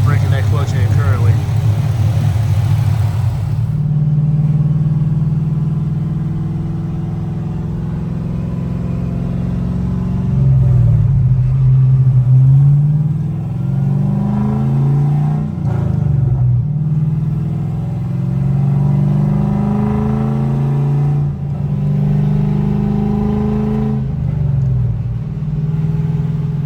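An LS-swapped Nissan 240 drift car runs while its new clutch is broken in, a loud close engine drone rising and falling through repeated pulls and gear changes, with talk over it.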